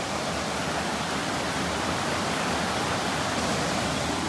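A remote, off-the-beaten-track waterfall pours in a dense, steady roar of rushing water, loud and unbroken, with no voices.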